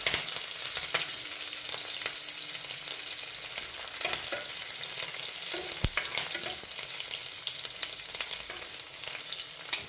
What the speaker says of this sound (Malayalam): ഇഞ്ചി കുറച്ചൊന്ന് വഴറ്റിയ ശേഷം അതിലേക്ക് ചെറുതായി അരിഞ്ഞു വെച്ച പച്ചമുളക് ഇട്ട് ഒന്ന് നന്നായിട്ട് ഇളക്കാം